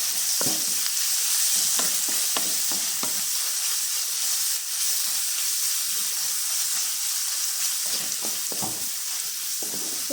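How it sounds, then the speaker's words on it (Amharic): Onions frying with chicken in a hot pan, a constant loud sizzle and hiss with repeated scraping stirring strokes, no voices. "ዶሮውን በጠበስኩት ላይ ሽንኩርቱን ጨምሬ እጠብሳለሁ።"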